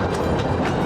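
A cartoon train approaches with a brief, loud, rumbling clatter of wheels on rails lasting under a second and no voices.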